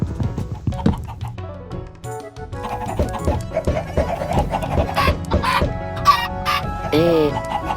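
Chickens cluck and squawk in the Minecraft video game, repeated short calls over a busy bed of game sounds and music throughout.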